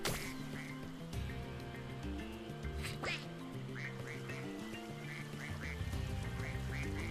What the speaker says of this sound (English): Gosh, that duck is really depressed.